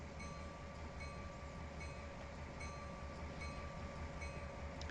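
A steady low rumble of a train rolling slowly through a railway yard during switching in Trainz 2019 on the Tidewater route, with faint tonal hums and occasional light metallic ticks, continuous and fairly quiet.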